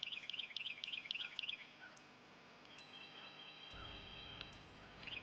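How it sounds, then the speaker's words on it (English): Small birds chirp outdoors on a frosty morning near a turnip green garden, a quick cluster of high tweets at the start followed by sparser, fainter calls and soft background insect-like trilling. "I hope y'all can hear the little birds out here."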